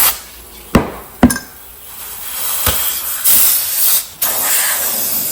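Compressed air at 12 psi hisses loudly into a cylinder of a John Deere LA130 lawn tractor engine with bent pushrods. A steady high hiss swells and dips, broken by a few sharp metallic clicks.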